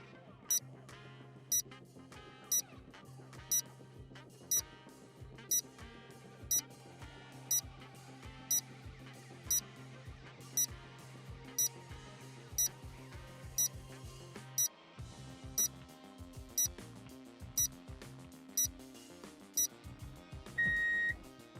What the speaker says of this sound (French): Mon téléphone sonne, je réponds.